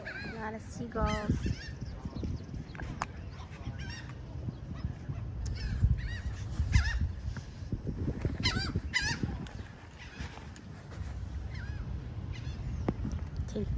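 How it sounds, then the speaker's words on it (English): Seagulls at Bethany Beach give repeated harsh calls in scattered bursts, some close and some farther off, over steady beach background noise with a hint of voices. "A lot of seagulls."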